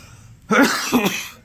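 A single harsh cough, close and fairly loud, followed by a short raspy throat-clearing sound, with no talking.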